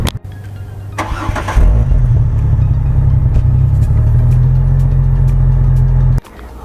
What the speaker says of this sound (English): I'll give you one more start with the exhaust